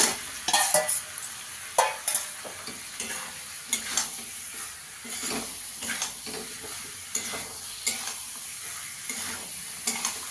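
Kohlrabi stir-fried in spiced masala that has already released its oil, for a fish curry with kohlrabi: a steady close sizzle broken by repeated scraping and stirring strokes of a spatula against the pan, with no talk.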